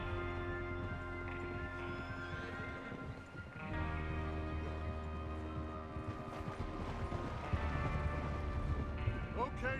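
Horses ridden in the video game Red Dead Redemption 2, steady hoofbeats under sustained game music and ambience, moderately faint throughout with no talk.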